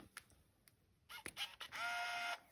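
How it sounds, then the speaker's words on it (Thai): A Minolta Capios 125s compact film camera gives faint clicks and short beeps, then a brighter burst as the red-eye reduction flash charges and fires, quiet and close with no talking. "มันก็จะปิ๊บปิ๊บแล้วก็สาดแฟลชมานะคะ"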